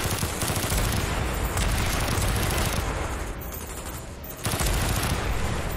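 Heavy, continuous bursts of gunfire in Call of Duty: Black Ops, loud and dense like a rapid barrage from game weapons, briefly easing before resuming at full intensity.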